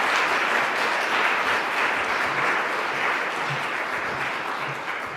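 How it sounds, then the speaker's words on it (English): An audience at a legislative panel event on uterine fibroids applauds the panelists: dense, even clapping that fills the room continuously and tapers only slightly toward the end. "can we get a round of applause for our panelists here?"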